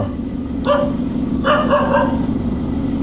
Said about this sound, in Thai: หมามันก็เห่า